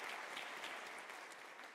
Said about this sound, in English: Can I request a round of applause on her message?